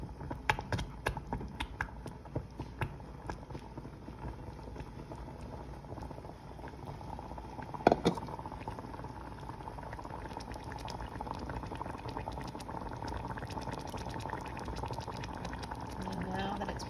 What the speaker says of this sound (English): it's starting to bubble pretty good.